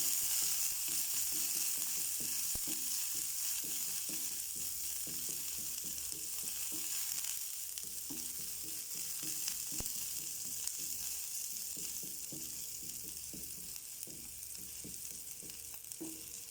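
Small onions and curry leaves sauté in a pan on the stove, a steady hissing sizzle with faint stirring scrapes, moderately quiet and with no voices.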